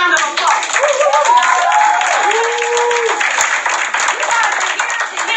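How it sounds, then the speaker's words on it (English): Audience applauding guests at a company presentation, continuous clapping heard over voices talking and calling out, loud and close throughout. "Let me give my guest a round of applause."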